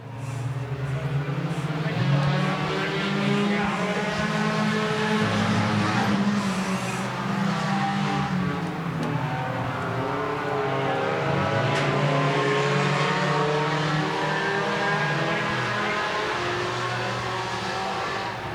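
Race cars roar steadily around the track during a lead battle, engine drone loud and continuous with shifting pitch as cars pass close by, no voices heard over the noise.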